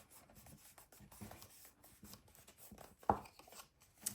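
Glued paper being burnished flat by hand while assembling an accordion file book, soft close rubbing strokes in short faint bursts with a sharper tap near the end, no talking.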